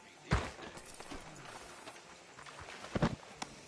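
Horse hooves clip-clop in Red Dead Redemption II as a rider approaches a town sheriff's office, a few soft uneven thuds with two sharper hits standing out under faint background ambience.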